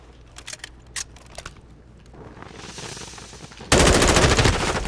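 In a Call of Duty: Modern Warfare II multiplayer match, an M4 rifle fires a few scattered single shots, then breaks into a loud sustained burst of rapid automatic gunfire close to the player.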